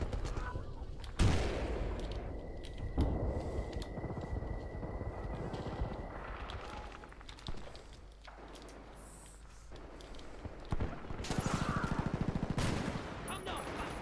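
Shotgun blasts ring out in Battlefield Bad Company 2 Vietnam, with loud bursts of gunfire among the surrounding battle noise and a helicopter-like drone, sounding fairly distant and muffled overall.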